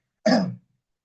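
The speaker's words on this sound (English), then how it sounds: "first of all, cough now" One short, forceful cough, close and alone, lasting about a third of a second and then followed by silence.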